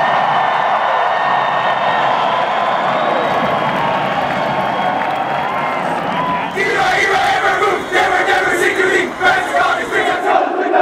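Hockey fans at a University of Denver NCAA championship celebration roar and shout as a dense, sustained crowd noise, swelling louder and more ragged with bursts of cheering in the second half.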